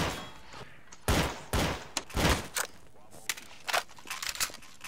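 Gunfire in Garry's Mod, a series of sharp bursts and single shots at uneven intervals, some louder and closer, others faint, over a quiet background.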